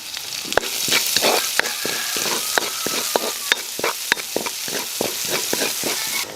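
Onion sizzling loudly in a hot pan while cooking chicken Manchurian, a steady dense crackle punctuated by sharp ticks of a utensil stirring against the pan, close and continuous with no talk.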